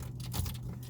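Keys jangle briefly near a door, a short close metallic rattle over a low steady background hum.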